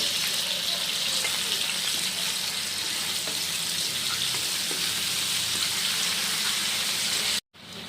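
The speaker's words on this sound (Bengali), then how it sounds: "ফোড়নটা ভাজা হয়ে গেছে, এখন আমি হলুদ আর লবণের যে পেস্টটা করেছিলাম সেটা দিয়ে দেবো" Turmeric and salt paste dropped onto fried tempering spices in hot oil, for mustard pabda fish with potato and eggplant, gives a strong, even sizzle lasting several seconds before it cuts off abruptly at the end.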